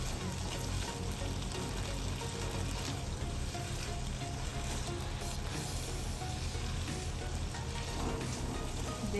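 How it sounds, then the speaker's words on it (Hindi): Chicken pieces with lemon juice sizzle as they fry in masala, a steady, even crackle that carries on without a break and with no talking. "इसको आप भूनते जाएं अच्छी तरह।"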